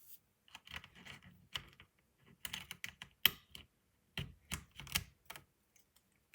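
Plastic keycaps clack and snap one after another onto a computer keyboard in irregular close-up clicks, with short pauses between presses.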